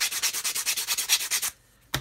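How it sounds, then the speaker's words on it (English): Sandpaper rubbed back and forth against the side of a plastic 1/200 Titanic model hull part, a quick even run of about a dozen close, loud strokes that stops, then one more stroke starts. "I need to sand material away from here"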